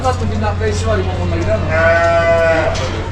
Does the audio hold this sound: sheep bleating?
yes